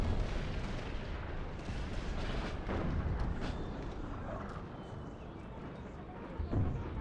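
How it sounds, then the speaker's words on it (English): Artillery batteries fire across an Empire Total War battlefield, a steady rumbling wash of distant booms and crackling musketry with a few sharper reports rising out of the continuous din. "They're shooting at my other artillery over here."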